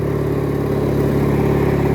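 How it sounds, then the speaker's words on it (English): White LT 1650 lawn tractor engine idling steadily while warming up, a close, constant mechanical hum and whir with a smooth, even drone and no talk. "The engine's really not making too much noise."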